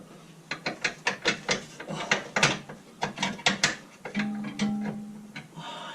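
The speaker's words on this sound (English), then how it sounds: "There's the screwdriver on it, the spanner on it, I mean." Spanner ratcheting a bolt tight on the lower wishbone suspension of a 2001 VW Golf Mk4 1.8T GTI, a close run of quick rhythmic clicks in bursts, then slower grinding turns with a faint hum.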